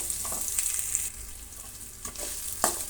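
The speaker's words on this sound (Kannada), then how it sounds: "ಈಗ ಸಣ್ಣದಾಗಿ ಹಚ್ಚಿಟ್ಕೊಂಡಂಥ ಒಂದು ಮೂರು ಈರುಳ್ಳಿನ ಹಾಕ್ತಾಯಿದ್ದೀನಿ" Finely chopped onions frying in a pan for carrot upma, giving a continuous close hiss and sizzle with a few soft stirring scrapes, no talking.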